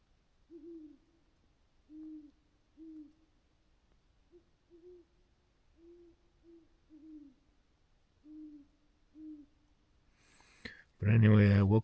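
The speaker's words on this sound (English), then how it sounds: "there's like a coyote barking and some owls hooting right now." Owls hoot at night outdoors on a late fall backpacking trip, about a dozen soft, low, evenly spaced hoots from a distance, followed by a sudden loud close noise at the very end.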